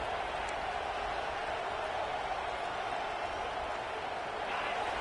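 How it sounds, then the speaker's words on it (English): Big stadium crowd at a Buckeyes versus Michigan college football game, a dense steady roar of cheering and noise that holds loud and even throughout, swelling slightly near the end. "And this crowd coming to life here"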